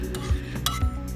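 Eggs seasoned with a pinch of salt are stirred in a bowl between microwave cooking rounds, a utensil clinking and scraping against the dish a few times, close and quiet, with no speech.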